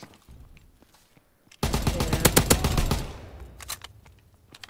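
Gunfire from a slow-firing WW2-era rifle in a Call of Duty WW2 match rings out as a dense burst of loud cracks and shots lasting over a second, then fades into a few scattered distant shots.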